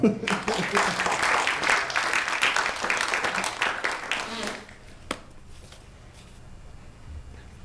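An audience at a university talk on Indian slavery claps in a dense burst for about four seconds, then the applause fades out, leaving a single stray clap and quiet room sound.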